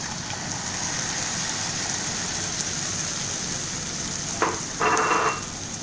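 Chopped capsicum fries in a pan as tomato puree goes in for pink sauce pasta: a continuous dense sizzle throughout, with a sharper, louder burst of spitting near the end as the puree hits the hot pan.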